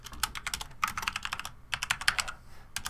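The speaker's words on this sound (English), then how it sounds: "If I can learn how to type" Typing on a computer keyboard at close range: quiet, quick clusters of clicky keystrokes in uneven bursts with short pauses, no voices.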